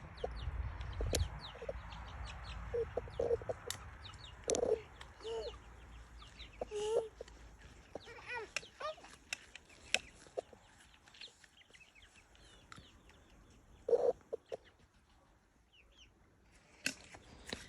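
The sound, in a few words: chicks clucking while feeding in the yard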